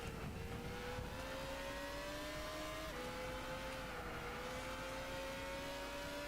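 A powerful car's engine in Gran Turismo 6 pulling hard through the gears, a rising whine that climbs, drops at a shift, and climbs again, steady and fairly faint with no voices.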